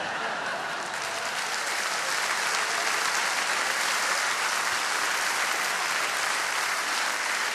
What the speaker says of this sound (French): tous mes sympathisants UDC qui applaudissent dans la salle